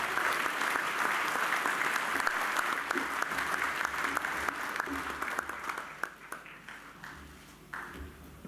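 Sustained applause from a dinner audience at a 2015 awards event fills the room, steady and fairly close, thinning slightly toward the end with a few louder individual claps.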